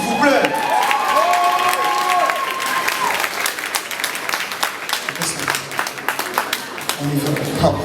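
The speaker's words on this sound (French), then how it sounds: "Applaudissez s'il vous plaît." Loud audience applause and cheering at a Miss and Mister RDC International pageant evening, dense clapping with shouts and whistles over the whole stretch, a voice speaking briefly near the end.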